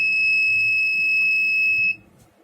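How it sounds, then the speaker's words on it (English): A temperature-triggered IoT fire alarm buzzer sounds one loud, steady, piercing electronic tone, close by and alone, lasting about two seconds before cutting off. "the buzzer started buzzing."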